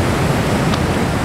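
Ocean surf rolling in steadily at El Zonte beach in El Salvador, a broad continuous wash of breaking waves with no distinct individual crashes, close and fairly loud.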